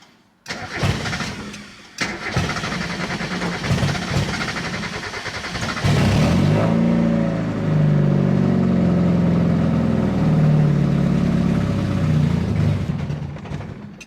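A Mazda Miata engine cranks in short bursts, catches around the middle and runs with a loud, steady mid-pitched idle for several seconds before fading out as it dies.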